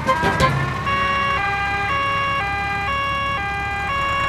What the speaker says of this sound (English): The ambulance is here!